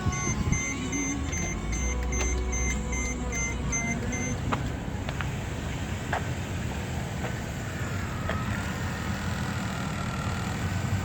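A Mercedes-Benz car being started, with a steady engine rumble close by alongside repeated electronic dashboard beeps and chimes, continuous and moderately loud with no talk.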